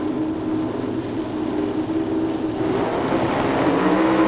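A pro stock drag car at the 1994 NHRA Mile-High Nationals at Bandimere Speedway roars loud and steady as it launches and runs through its five-speed gearbox, with a dense, sustained engine note.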